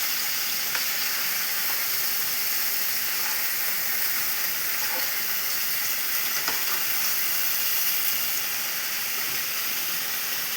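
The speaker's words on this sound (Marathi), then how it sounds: "असं कच्चा फिश न टाकता ते थोडंसं परतून टाकायचं." Fish pieces lightly sautéing in hot oil in a pan for a fish curry, a continuous bright sizzle and hiss with occasional small pops, steady and close with no voices.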